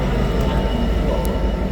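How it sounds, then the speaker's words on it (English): Loud, steady rumble of a nine-coach passenger train at a railway station serving Doncaster and York, a continuous low drone with faint brief higher tones above it. "This train has 9 coaches."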